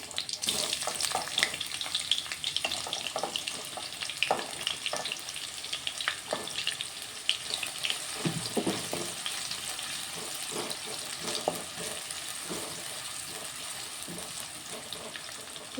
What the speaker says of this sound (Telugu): ఆనియన్ కొంచెం ఫ్రై అవ్వాలి. ఆనియన్ ఫ్రై అవుతున్నాయి.